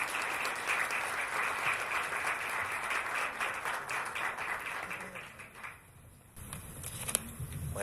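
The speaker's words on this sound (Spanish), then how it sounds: "Un aplauso al doctor Manuel Espinosa." Sustained audience applause greets a doctor, a pulmonology specialist, at a talk: dense steady clapping through most of the stretch, thinning and fading near the end before a brief renewed burst.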